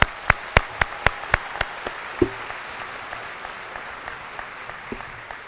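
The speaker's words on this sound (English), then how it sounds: "give yourselves a round of applause for that" A single person's sharp, evenly spaced claps fade out in the first two seconds, then quieter scattered applause trails off from the graduating class at a high school graduation ceremony.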